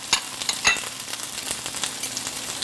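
Browned pine nuts and lemon zest are stirred together for a gremolata, with light scraping and clicking from the utensil against the bowl in short, close, irregular bursts over a soft steady hiss.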